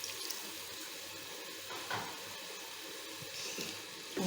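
Steady watery rush of a little water pouring into a cooking pan, continuous and fairly quiet, with a faint hiss from the hot pan underneath.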